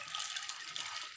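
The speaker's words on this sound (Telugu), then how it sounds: "శనగలు మునిగేంత వరకు వాటర్ యాడ్ చేసేసుకుందాం." Water from a tap or jug pours steadily onto washed chickpeas in a bowl, a continuous close splashing stream that runs the whole moment without talk.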